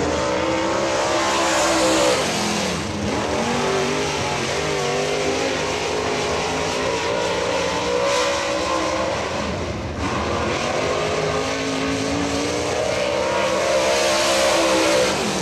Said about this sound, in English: He's got a David Hitch racing engine under the hood of his Masters Built Pontiac Grand Prix